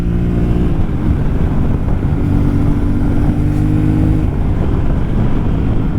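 A 2024 Yamaha Ténéré 700 A2 motorcycle on the move, its engine droning loud and steady with strong low rumble, wind buffeting the microphone throughout and no voices.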